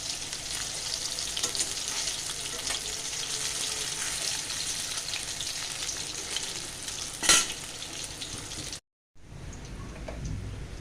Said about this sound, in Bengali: এবার আমি এগুলোকে একটু হালকা হালকা করে ভেজে নেব।